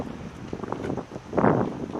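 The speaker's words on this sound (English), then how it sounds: "Very windy that day as well." Gusts of wind buffet the microphone with low rumbling bursts, strongest in a swell near the end.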